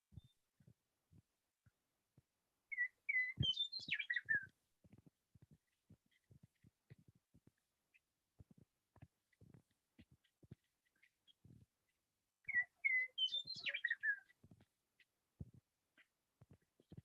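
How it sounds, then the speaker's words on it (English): A meadowlark gives two short, bright bursts of chirping song, one near the start and one later, over a quiet background with scattered soft low thumps. "That was a meadowlark."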